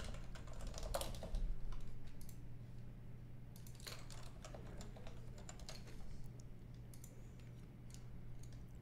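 Rapid typing on a computer keyboard, near and continuous with irregular bursts of key clicks over a steady low hum, with no talk.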